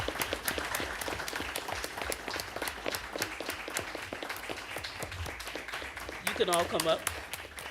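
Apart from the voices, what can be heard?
audience applause for Sue Nygaard and her team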